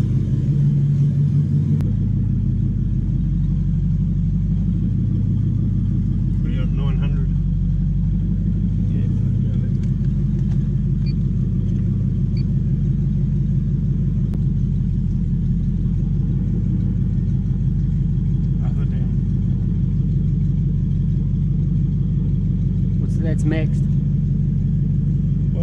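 Toyota 1UZ-FE VVTi V8 swapped into a Mk3 Supra, idling with a steady low rumble close by, faint clicks and mechanical ticks on top, people talking quietly underneath.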